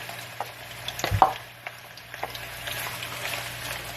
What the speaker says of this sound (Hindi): ये देखिए मैं प्याज जो है वो ब्राउन कर रही हूँ